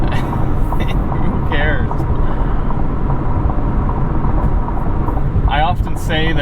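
A 2021 McLaren 720S cruising in manual mode: a loud, steady cabin roar of engine and road rumble runs throughout, with a voice speaking briefly over it.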